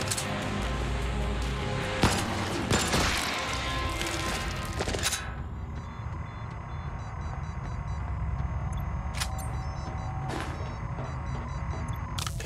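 Gunfire in the sci-fi shooter Void Bastards: a dense cluster of sharp, loud shots and impacts over the first few seconds, then a steady game-ambience drone broken by two or three isolated distant cracks.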